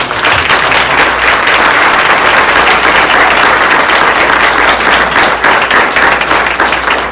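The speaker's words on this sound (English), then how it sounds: "can we just give a collective round of applause?" Loud, sustained applause from a packed audience at an entrepreneurs' workshop during an ocean conference, a dense even wash of clapping that holds steady near the microphone with no talk over it.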